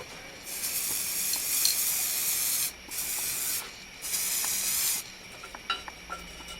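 Aerosol spray paint can hissing in several long bursts as it coats Honda CB 500 motorcycle fork legs, steady spray broken by short pauses, close and fairly loud with small clicks and handling noises near the end.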